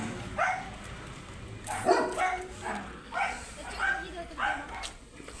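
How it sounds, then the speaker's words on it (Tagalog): A large dog on a grape farm barks in about five evenly spaced bursts at moderate distance, with people talking throughout. "Ay! Nakakalaking aso."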